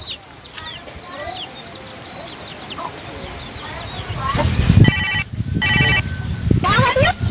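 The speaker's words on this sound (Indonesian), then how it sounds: "Siapa ini yang nelpon?" A telephone rings in short repeated bursts, loud and close, in a Sundanese short film set around selling a goat, with chickens clucking and people talking in the background beforehand.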